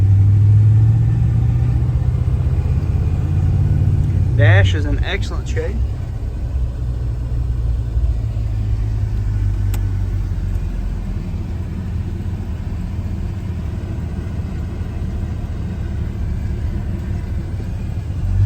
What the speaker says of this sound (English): we're going to take this 1984 Chevrolet C10 for a test drive and see how it does